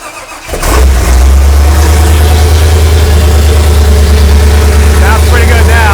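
A 1955 Buick engine turns over and catches, then settles into a loud, steady low rumbling idle that runs continuously, close up.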